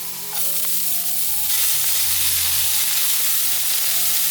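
Minced ginger and chopped celery stir-frying in hot oil in a wok for a vegan potato and celery dish, a steady bright sizzle with scraping stirs and low rumbling background, no talking.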